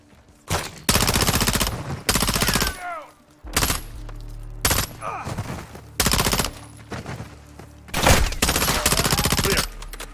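Bursts of automatic gunfire from the Modern Warfare 2 campaign's cartel protection mission, a P90 among the weapons, loud and close, firing in repeated volleys of a second or so with short gaps between them.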